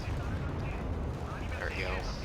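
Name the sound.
rockets firing in the video game Wargame: Red Dragon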